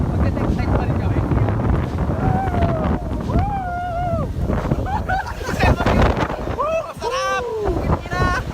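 Strong wind buffets the microphone during heavy rain outdoors, with a constant roaring rumble. Several people talk and shout excitedly over it.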